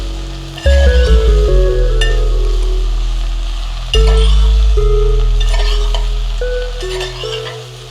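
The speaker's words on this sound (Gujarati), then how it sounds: "ભીંડાને મિક્સ કરી દઈએ" Okra with green chillies stirred in a sizzling pan: loud frying hiss with scraping and clinking strokes, in two bursts, the second starting about halfway through.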